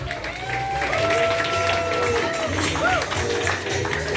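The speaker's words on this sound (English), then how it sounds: "big round of applause for everybody that came out tonight" Crowd at a championship event in Ottawa and Hamilton applauding and cheering, a steady roar of claps with whoops and shouted voices rising over it, full and close throughout.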